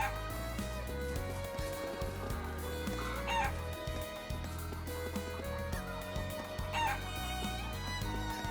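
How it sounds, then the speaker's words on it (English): Chickens clucking and a rooster crowing on a farm in the video game Trails of Cold Steel, repeated clucks and two crows over a steady game music backing at moderate volume. "And I can talk to the chickens."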